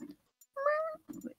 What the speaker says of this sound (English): The fucking cat is here.